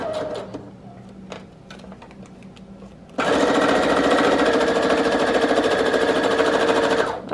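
A sewing machine stitches a pocket for a junk journal, running steadily and loudly for about four seconds after a quieter stretch of handling noises and small taps, close by.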